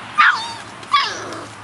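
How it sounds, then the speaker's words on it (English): Puppies give two short, high yipping barks that trail into whimpers, close by and otherwise quiet. "I like curious puppies."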